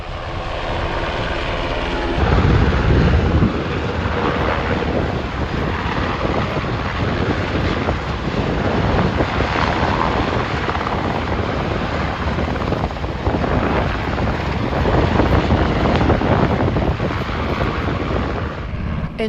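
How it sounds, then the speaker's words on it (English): A military rescue helicopter roars overhead during a demonstration at an air show on a base in Okinawa, its loud, steady rotor and engine noise filling the air with wind buffeting throughout. "While I was there was also a rescue helicopter demonstration,"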